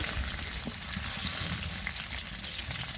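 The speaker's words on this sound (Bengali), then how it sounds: "তেল গরম হয়ে গেছে এবার আমি আলুগুলোকে ছেড়ে দেবো আলুগুলোকে ভালো করে লাল লাল করে ভেজে নেব" Potatoes frying in hot oil give a steady, dense sizzle that holds evenly throughout, close and fairly loud with no talk.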